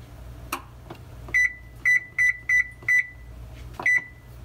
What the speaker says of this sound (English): We will go ahead and set the timer